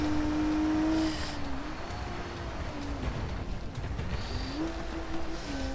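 A rally car engine roars at full throttle in third gear in BeamNG.Drive, with a loud, sustained, rising and falling drone under heavy road rumble, pitch shifting as the car takes a hairpin.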